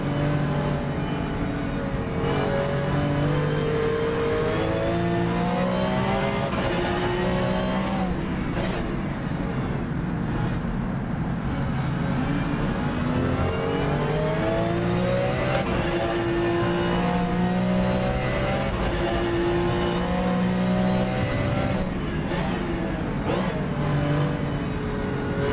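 A Porsche race car in the rFactor 2 sim races around Interlagos during an endurance series event, its engine loud and close, revving hard through the gears with repeated upshifts and dips as it brakes and accelerates.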